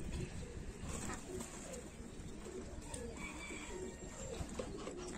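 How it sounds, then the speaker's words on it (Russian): Pigeons coo softly and repeatedly near at hand, a low steady murmur of doves with a few faint chirps mixed in. "Голубь, голубка."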